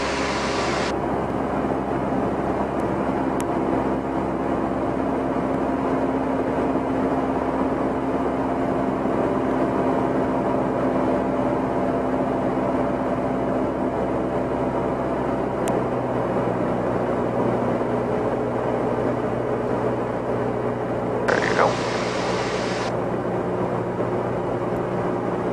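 A small training airplane's engine drones loud and steady throughout a spin training flight, with a continuous cabin hum that drops slightly in pitch partway through as power is reduced.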